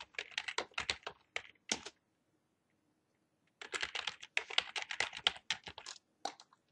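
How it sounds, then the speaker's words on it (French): Close, brisk keystrokes on a computer keyboard while entering text in Word, coming in two bursts of rapid tapping separated by nearly two seconds of silence. "Donc là, je peux taper la suite."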